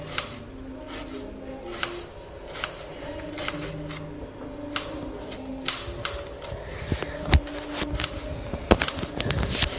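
A knife thinly slicing onions on a cutting board for vegetable biryani, producing a steady run of crisp, evenly spaced chopping taps that grow louder and quicker toward the end.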